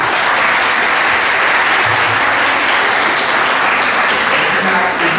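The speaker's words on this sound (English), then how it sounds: "Give yourself a round of applause, please." A school awards assembly audience claps loudly and continuously, a thick wash of many hands filling the hall at steady volume throughout.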